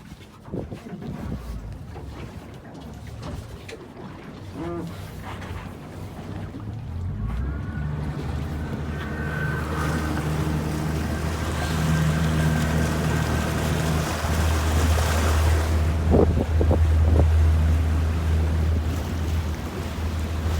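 A 2021 Steiger Craft 255 DV boat underway on open water off Miami, its engine drone rising steadily under rushing wind and splashing hull noise, growing louder and fuller as it picks up speed.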